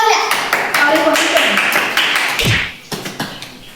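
A short burst of audience clapping at a Gujarati comedy show, loud and close, mixed with someone talking before it fades into quieter speech.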